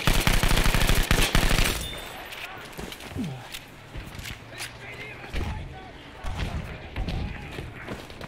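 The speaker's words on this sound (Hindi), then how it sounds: "अरे यार लुईस गन से मार गया कोई" Lewis gun machine-gun fire in the World War era shooter Battlefield V: a loud, sustained rapid burst opens the clip, then quieter, scattered distant shots and thumps follow while players talk over the action.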